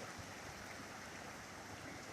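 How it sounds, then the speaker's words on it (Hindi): A river flows with a steady, even rush of water, soft and continuous throughout with no voices. "ये जो बहता हुआ पानी है, जो लहरें मारता हुआ पानी है"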